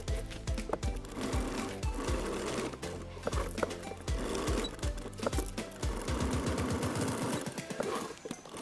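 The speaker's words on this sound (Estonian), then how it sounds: "katan ma ta lihtsalt ära ja õmblen siit kinni" A sewing machine stitching a MOLLE strap on a modular vest, running in short repeated bursts with brief pauses, close and steady.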